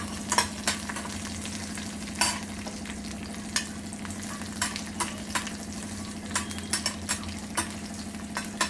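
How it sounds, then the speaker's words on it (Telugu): Crushed garlic and cumin tempering frying in hot oil for rasam, giving a steady close sizzle with a low hum beneath and scattered sharp crackles and pops throughout, no voices. "పోపు వేగింది."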